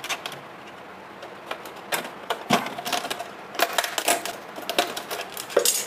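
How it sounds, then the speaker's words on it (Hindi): An old phenyl plastic bottle is cut with repeated sharp snipping and crackling strokes, close and fairly loud, in irregular bursts that grow denser toward the end. "ये देखिए आप देख सकते हैं मैं इसको काट रहा हूँ, बहुत ही इजीली कट जाता है"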